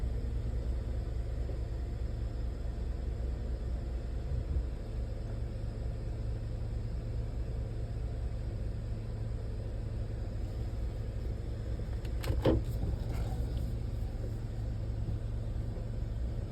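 2024 GMC Sierra 1500 AT4 pickup truck backing up, a steady low engine rumble with broadband noise throughout, heard from close by, with a few brief clicks partway through.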